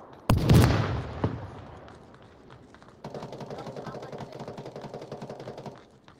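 Gunfire in the VR shooter game Onward: a sharp loud shot near the start, another brief crack, then a steady rapid burst of automatic fire, with a player's voice at times.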